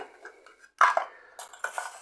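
Metal knives and forks from a found kitchen set clinking and rattling as they are picked through by hand, with a sharp clatter midway followed by lighter scraping and jangling, close and moderately loud.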